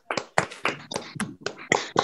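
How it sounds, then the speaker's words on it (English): A single person claps hands about eight times in an uneven rhythm as applause over a Zoom call, close and fairly loud with no talking. "Give you a little hand of applause myself via Zoom."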